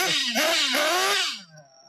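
A small RC model nitro engine revs with a high, buzzy whine that rises and falls in pitch before dropping off sharply, at an outdoor RC track.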